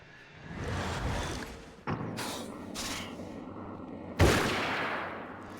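Hunting rifle gunshots in the video game Alan Wake's American Nightmare: a few sharp, spaced cracks with booming tails, the last shot the loudest, heard alone over a low rumble.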